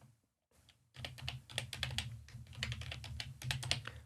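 A folder name typed on a computer keyboard, a fast run of crisp keystrokes close to the mic that starts after a brief near-silent gap.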